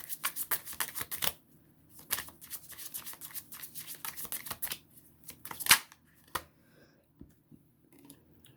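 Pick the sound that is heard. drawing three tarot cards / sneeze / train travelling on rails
drawing three tarot cards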